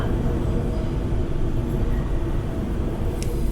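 An Auckland Western Line commuter train runs on steadily, heard from inside the carriage as a constant low rumble and rattle of wheels on track, with a faint high squeal near the end.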